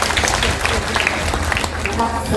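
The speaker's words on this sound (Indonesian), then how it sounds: "Tepuk tangan dulu dong buat anak-anak." Audience claps for the children at a lively community religious gathering celebrating Indonesian Independence Day, a brief burst of dense, close clapping with some voices and crowd noise underneath.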